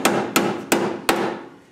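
Four heavy blows of a big hammer on a Toyota GR86 car, roughly a third of a second apart, each a sharp metallic bang with a short ringing tail.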